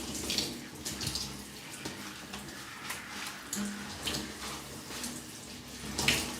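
Water is poured over the body during a ritual washing, a steady faint splashing and trickling flow like running from a tap, with small splashes spread throughout.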